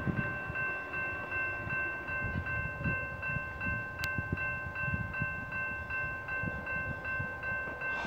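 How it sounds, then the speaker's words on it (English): Amtrak passenger train led by a BNSF Tier 4 locomotive rolls past with a steady rumble and a faint rhythmic clatter of wheels over rail joints, heard moderately close with no talking. "I think Amtrak's actually being led by a tier 4."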